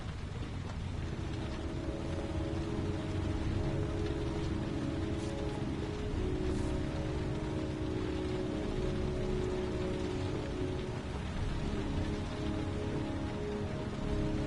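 Steady rain falls continuously, a dense even hiss of drops on surfaces with a low rumbling undertone, holding at a constant moderate level throughout with no voices.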